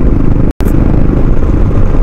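A motorcycle rides along a scenic road toward Konkan, with a loud, continuous rush of engine and wind that briefly cuts out for an instant before resuming just as strongly.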